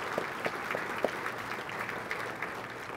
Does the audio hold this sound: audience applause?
yes